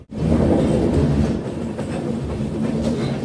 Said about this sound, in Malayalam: രാവിലെ 5:46 തെന്മല റെയിൽവേ സ്റ്റേഷനിലേക്ക് ഇതാ ട്രെയിൻ എത്തി.